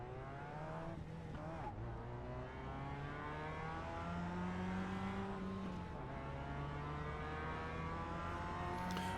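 Production race cars in the iRacing sim roll through a parade lap at Watkins Glen behind the safety car, a continuous layered engine drone with gently shifting pitch as the pack cruises, no hard acceleration.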